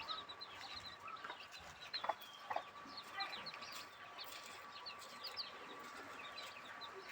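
Backyard hens cluck softly to their chicks, with faint chirps scattered throughout and a few louder clucks near the start, all quiet against a steady outdoor background.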